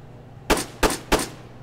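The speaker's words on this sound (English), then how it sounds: "Alright, let's try the AK-74U." Three sharp, loud gunshots from an AK-74U rifle in the video game Arma 3, fired singly at an even pace with short decaying tails and no talking.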